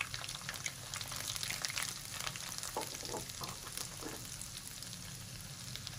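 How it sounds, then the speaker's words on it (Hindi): Semolina roasting in a pan over low heat, a soft, low sizzling hiss with faint, continuous spoon-stirring scrapes, quiet and without speech. "और हल्की आंच पे भूनेंगे, ज़्यादा तेज़ आंच पे नहीं भूनेंगे और मुसलसल चम्मच चलाएंगे"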